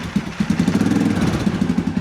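Suzuki King Quad 750 ATV engine running with a bit of throttle after a top end rebuild, a loud close rough idle with rapid uneven pulsing putters and slight surges.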